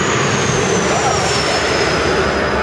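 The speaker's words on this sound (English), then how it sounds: "This is the largest plane that comes into land at this airport." A large passenger plane lands at Toronto Island airport, its loud, steady jet engine roar and broadband rush filling the whole stretch with a faint high whine on top.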